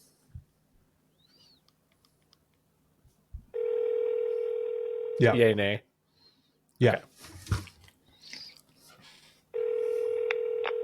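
A phone call's ringback tone plays as a steady, repeating electronic tone in two long bursts, with brief speech from people and a few short clicks in between.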